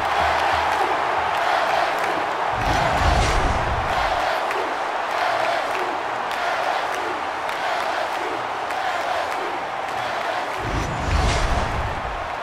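A stadium crowd at a Miami Hurricanes vs LSU Tigers college football game roars steadily throughout, with louder surges of cheering and yelling rising at moments, while a commentator's voice carries over the noise.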